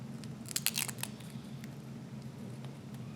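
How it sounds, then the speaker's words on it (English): Scissors snip several quick cuts in a short burst, trimming the edges of a neonatal ET tube holder, close and fairly quiet, followed by light handling noise and no talk. "it might be necessary to also trim the edges here"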